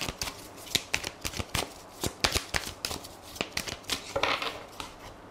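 Oracle cards being shuffled for a tarot-style reading: a steady run of crisp, riffling snaps and soft slaps up close, repeating in quick irregular bursts with no talking.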